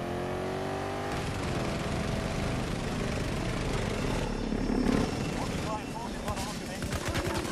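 Extraction aircraft engine droning steadily on the ground in Battlefield 2042 Hazard Zone, a continuous rotor-like hum and whine under bursts of gunfire and other battle noise.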